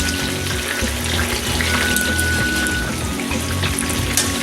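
Steak searing in a hot pan for peppered steak, a loud, steady close-up sizzle and crackle with a broad hissing texture that holds evenly throughout, no voices over it.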